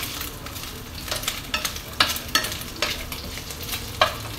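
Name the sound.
sautéing fresh noodles for mee goreng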